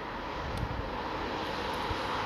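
A DJI Mavic Pro drone flies over a lake, giving a steady, continuous whirring hum at moderate distance with no talk over it.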